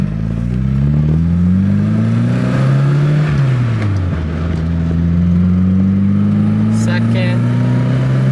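A Toyota AE86 fitted with a T3 short shifter pulls hard through the gears on a mountain road, engine droning loud and close, pitch climbing, dropping briefly at a shift near the middle, then rising again.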